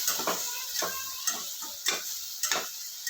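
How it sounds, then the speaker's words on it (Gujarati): Peanuts roasting in hot oil in a pan while dal dhokali is cooked, giving a steady close sizzle with repeated crackles and stirring scrapes throughout. "હવે એમાં હું થોડાક સિંગાણા ઉમેરી દઈશ કે જે તેલ સાથે એકદમ સરસ શેકાય પણ જશે"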